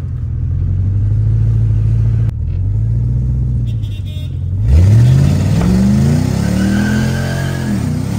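A BMW E46 fitted with a 3UZ V8 revs hard while drifting, its loud, close engine note climbing and falling in repeated sweeping surges over a continuous roar.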